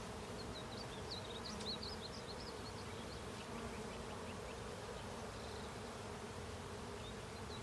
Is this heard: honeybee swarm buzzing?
yes